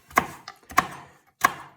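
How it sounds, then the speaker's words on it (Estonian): A knife cuts through juicy herb stems on a cutting board while a Greek grill sauce is being made, giving three crisp, evenly spaced chops that land close and clear. "Need varred tükeldan ära ja need lähevad blenderisse."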